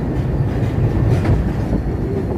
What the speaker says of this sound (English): Look at the train above us.